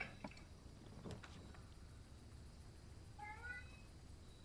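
Pet cats meow a few times at quiet, moderate distance, with a short burst early on and a clearer, higher meow near the end over low background hum.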